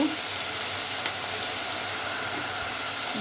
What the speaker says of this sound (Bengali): রসুনটা একটু ভাজা ভাজা করবো যাতে কাঁচা গন্ধটা না থাকে সুন্দর মতন